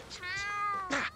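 Loki, a pet cat in The Sims 2, gives a single clear, drawn-out meow followed by a short higher chirp, close and alone without talk.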